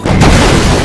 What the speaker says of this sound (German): das war dieser Explosionszaubertrank